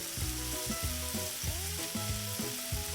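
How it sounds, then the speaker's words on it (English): Shrimp and garlic frying in butter in a pan, a steady close sizzle running throughout with no talk. "let this fry until the shrimp is cooked halfway through and the garlic is just starting to brown"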